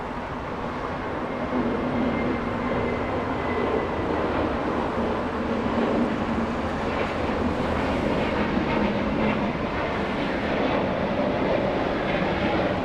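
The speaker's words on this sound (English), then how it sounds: "we have Japan Airlines 777 heading back to Tokyo Haneda on the move in the north side" A Japan Airlines Boeing 777 takes off from Los Angeles International Airport, bound for Tokyo Haneda, its engines a steady, broad jet roar held at a distance throughout.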